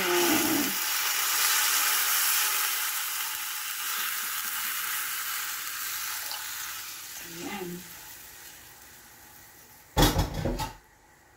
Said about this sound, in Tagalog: Ayan, kumukulo na